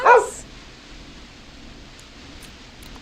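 A single short bark from Max, a rescue dog in the game Killer Frequency, sharp and close at the very start, then only quiet background hiss.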